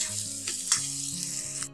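Beaten egg and vegetables frying together in a pan, a steady close sizzling hiss that cuts off abruptly at the end, with stepped background music playing underneath and no talking.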